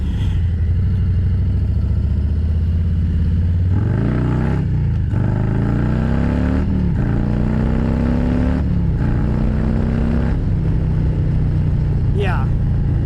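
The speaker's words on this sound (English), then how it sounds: "Yeah, I definitely peeled the back tire back there." A Harley-Davidson motorcycle accelerating hard with the rear tire peeling, its engine loud and close, climbing through several rising gear pulls with brief drops between shifts, over constant wind roar.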